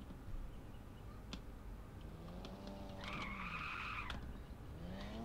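Tires skid and squeal in the Car For Sale Simulator 2023 video game, a quiet engine hum building into a long screeching slide with a couple of sharp clicks, no speech.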